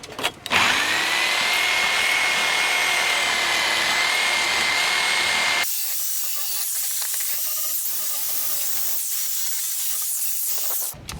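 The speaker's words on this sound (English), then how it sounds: "There, now we can just clean it up with a Sawzall" A Sawzall cleans up a beam pocket on a new barndominium build. The loud, continuous motor whine holds for several seconds, then shifts to a rougher, grittier cutting sound. No one speaks.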